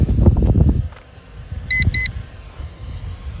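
A short pair of high electronic low-battery beeps from a Glorale X38 GPS drone over steady wind and rumbling motor noise, preceded by a louder burst of low rumble.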